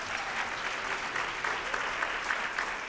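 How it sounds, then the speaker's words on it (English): Steady applause from an awards-ceremony audience, a dense even wash of many hands clapping at moderate distance, with no voices over it. "So a round of applause for yourself."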